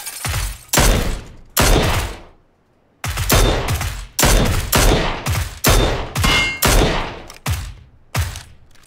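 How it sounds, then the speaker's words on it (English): Gunfire in PUBG, an online battle royale shooter: loud, sharp shots arriving singly and in quick pairs with short echoing tails, pausing briefly before a steady run of repeated shots continues. "I meant to shoot this gun."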